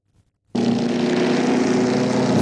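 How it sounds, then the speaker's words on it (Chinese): Wartime German bomber aircraft flying in large numbers, a loud droning propeller engine roar that cuts in suddenly after a short silence and holds steady and close to the end. "德军出动了大批飞机轰炸"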